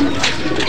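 A racing pigeon coos briefly and close by as it arrives at the loft during a daybird race in Calbayog, Samar, with a soft, low, rounded call heard on its own.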